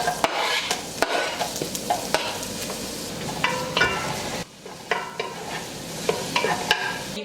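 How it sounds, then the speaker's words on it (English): Butter, sliced shallots and minced garlic sizzle and fry in a large pot for a mussel stew, with steady crackling and repeated stirring scrapes throughout, close and fairly loud, no talking. "In a large pot, we're gonna melt our butter, add in our sliced shallots and minced garlic."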